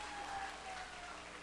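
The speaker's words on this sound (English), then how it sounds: "Please, one more big round of applause for Hannah." Audience applause aboard a Carnival cruise ship show, steady and moderately loud for the whole stretch with a broad wash of clapping and a faint tone running underneath.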